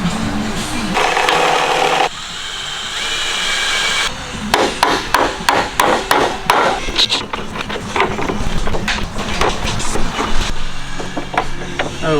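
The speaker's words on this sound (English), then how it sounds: "Drill through the hole." Power drill boring through a pre-made hole in a car body panel during a budget Ferrari F430 build, with a steady whirring run, then a burst of sharp rapid rattling bites and scraping, close and loud.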